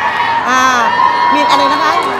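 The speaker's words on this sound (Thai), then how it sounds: "แฟนคลับเชียร์เหลือเกิน" Fan club members cheer at a Miss Universe beauty pageant event, a sustained crowd roar with high shouts and whoops, while a voice talks prominently over it.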